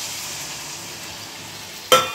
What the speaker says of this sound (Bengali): জলটাও দিয়ে দিলাম,